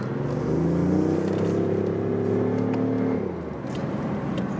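A BMW i8 Roadster's engine revs and hums up close, a throaty, motorcycle-like tone that climbs and holds for about three seconds, then drops away to a softer idle with faint rustling.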